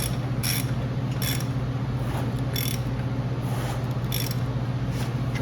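A ratchet tightens the rear axle nut on a Polaris Sportsman, clicking in sharp, evenly spaced bursts over a constant low hum, close and loud with no voices.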